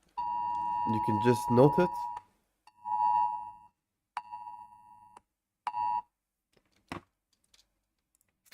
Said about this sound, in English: that was just an alarm